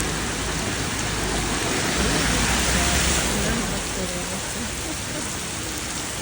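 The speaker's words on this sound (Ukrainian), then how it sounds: "Просто тресень, дощ не зупиняється. Машини плавають, вода лється." Heavy rain pours down steadily in Kyiv, flooding the streets, in a dense, continuous roar of water, loud and close throughout.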